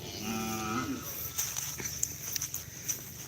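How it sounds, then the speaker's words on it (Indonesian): Cattle at a livestock market in Pamekasan: a loud nearby moo in the first second, followed by scattered clatter, shuffling footsteps and faint crowd bustle. "di blok barat kayaknya ada sapi juga"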